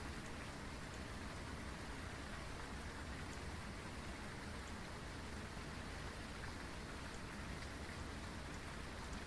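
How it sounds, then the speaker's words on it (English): Steady rain falls in the Phasmophobia game, a dense unbroken hiss of drops on surfaces that holds an even level throughout with no voices. "I heard the rain"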